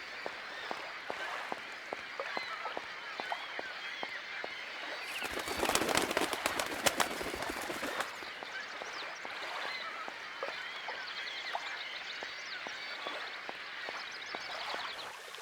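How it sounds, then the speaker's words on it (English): Birds coo and chirp in the Syberia video game, with layered calls over steady ambience and a loud crackling burst partway through. "These are the birds."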